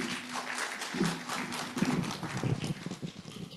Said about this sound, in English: Please welcome to the stage with round of applause, Mr. Xiong Limin.